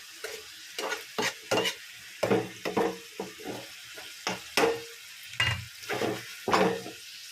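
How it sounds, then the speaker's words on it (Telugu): Prawns and potato pieces fry in hot oil, a steady close sizzle broken by repeated bursts of stirring and scraping against the pan, roughly once or twice a second, with no voices. "రొయ్యలు బంగాళదుంప బాగా ఆయిల్లో మగ్గాలండి"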